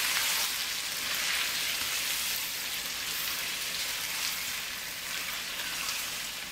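Chicken for Mughlai biryani sizzles in a pan over medium-high heat, a steady, close hiss of frying that carries on without a break.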